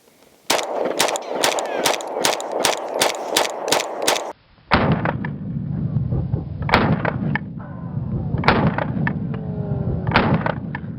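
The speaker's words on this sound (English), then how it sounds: "I wanted to shoot both guns with a side profile in slow motion" A Staccato XC pistol shooting 124 grain ammunition outdoors, a rapid string of about nine sharp loud cracks at a steady rhythm, then a brief pause and several more spaced, echoing shots.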